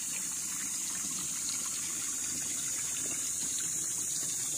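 Steady, continuous rush of spring water flowing beside a river on a farm lot, an even broadband wash holding constant level throughout with no voices.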